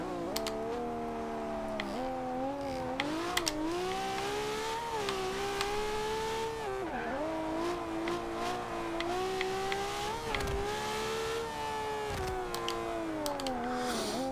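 A 2013 Ferrari LaFerrari engine in Forza Horizon 2 revs and drones continuously, its pitch climbing and dropping through gear changes with a few sharp dips, loud and steady.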